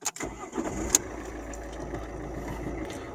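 A 2011 Alfa Romeo Giulietta's 1.6 Multijet diesel engine cranks and catches in a quick burst, then settles into a steady, low, close-up idle rumble with faint ticking, and no voices.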